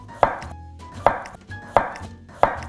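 Knife slicing zucchini into roughly half-centimetre rounds on a cutting board for an oyster and tofu stew, four crisp evenly spaced chops close up, with no talking.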